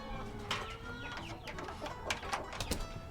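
Laying hens cluck and coo close by, with several overlapping bird calls and short squawks over a steady background murmur.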